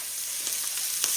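Pork chops sizzle and fry steadily in a pan, a continuous bright hiss with a few soft pops and crackles throughout, close and moderately loud with no talking.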